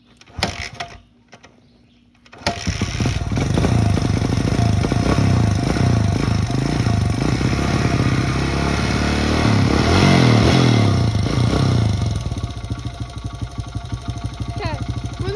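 A dirt bike engine, flooded after falling into a mud hole and given some choke, catches after a brief quiet start and then runs loud and steady nearby, with a rough, knocking idle that continues to the end.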